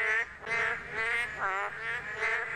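Narrow-mouth frogs give courtship calls, loud nasal honking croaks repeated in quick pulses, several calls overlapping in close succession.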